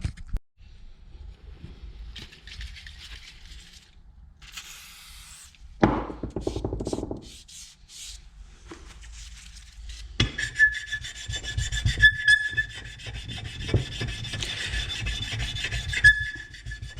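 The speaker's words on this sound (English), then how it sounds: "I can feel the stone hitting high spots." A sharpening stone rubs and rasps across the gasket surface of a Kawasaki KFX 450R engine part, in uneven scraping strokes that grow louder and more continuous toward the end, heard close with no talking.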